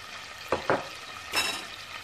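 Tomato paste and homemade tomato-pepper sauce sautéing in a pan for a pasta sauce, a steady soft sizzle broken by two quick stirring scrapes and a brief louder hiss, close and without talk.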